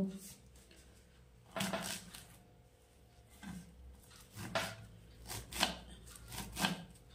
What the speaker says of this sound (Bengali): এটা যেহেতু একদম কচি, সেই জন্য আমি এটাকে আগে কুচি করে নেব।